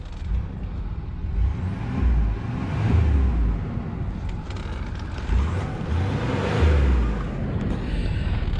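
A car engine idling warm after a short drive, a steady low rumble with slow swells in loudness, close and with no speech.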